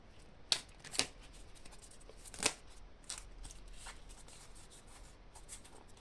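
Tarot cards shuffled by hand in a few quick riffling bursts near the start, then quieter handling and rustle, close and soft with no talking.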